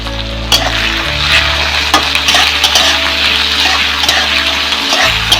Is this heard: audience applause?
no